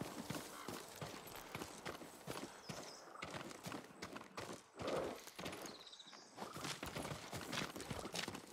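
A farm horse walks with steady, close clip-clop hoof steps in the video game Ghost of Tsushima, with an occasional snort over a soft ambient game backdrop.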